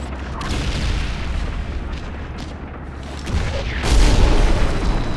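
Grenade explosion in the World War II shooter Medal of Honor Airborne: a sustained low rumbling blast that swells to a louder, booming burst near the end over a continuous battlefield roar, with no voices.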